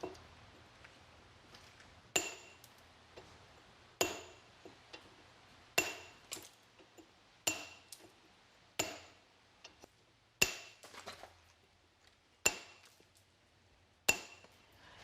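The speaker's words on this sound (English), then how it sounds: "hit it with the chipper, then we're gonna take a little pumice wheel and just take off the sharp edge by hand" A chipper chiselling the edge of a stone stair tread: sharp, ringing hammer-and-chisel strikes at steady intervals of about two seconds, each with a bright metallic clink and short decay, close and alone in a quiet room.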